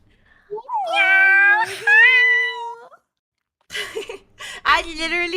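A voice imitates a cat with drawn-out, rising meows, followed after a pause by more meow-like calls mixed with a laugh.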